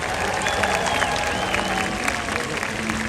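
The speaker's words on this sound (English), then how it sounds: "Everyone give her a round of applause." Crowd applause and light cheering in the stands at a SeaWorld San Diego orca show as a female killer whale comes out, a continuous loud wash of clapping under amplified background sound.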